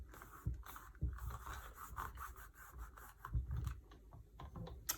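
Coloured pigment being rubbed firmly onto a surface to transfer it, heard as a close, steady scraping rasp in repeated strokes with brief pauses between them.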